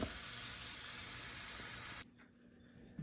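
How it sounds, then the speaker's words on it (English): Vegetables sauteing in a pan for a broccoli and rice casserole, a continuous even sizzle that cuts off abruptly after two seconds, leaving a quiet room. "So I'm going to saute this up."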